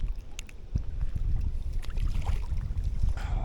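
Wind buffets the microphone while someone fishes for crappie from a boat, a loud, rumbling low roar with gusty swells and faint water sounds, no talking.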